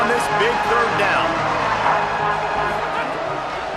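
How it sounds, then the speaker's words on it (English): Football stadium crowd at a BYU at Wyoming game cheering and building noise on a big third down, a steady broad roar throughout with a commentator talking over it. "The crowd elevating its energy, willing this defense to get a stop on this big 3rd down."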